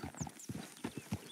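Horse hooves clip-clopping in Red Dead Redemption 2, a steady walking rhythm of soft thuds at a moderate pace, close but quiet, with no voices.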